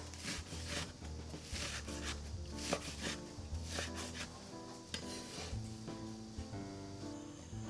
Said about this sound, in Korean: 고기는 볶기 위해서요. 작게 잘라주겠어요.